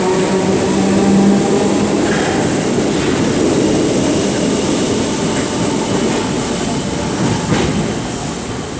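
A Merseyrail Class 507 electric multiple unit, number 507020, pulls out of James Street station bound for New Brighton, its steady rumble and traction whine filling the platform at close range with no voices.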